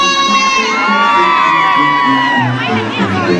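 Girls at a wedding in Huanaspampa, Huancavelica, let out a loud, sustained high shout together, a dense crowd cry that rises and then trails off with scattered whoops over a lively background.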